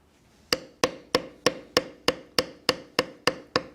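A steel bevel tool struck by a mallet works along tooled dragon scales on leather for a gauntlet, giving eleven sharp, evenly spaced knocks at a steady beat, close and alone.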